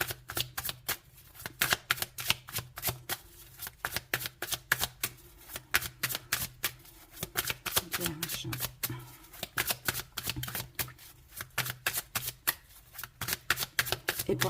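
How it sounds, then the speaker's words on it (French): Tarot cards shuffled in quick, steady riffling bursts, a dense rhythmic run of crisp card slaps close by, with no talking. "on va aller voir maintenant ce que nous dit le tarot"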